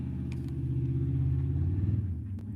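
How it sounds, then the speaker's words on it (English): A truck rumbles past outside a house, a loud low engine drone that swells and holds, then eases off with a few faint clicks over it. "We're enjoying that truck"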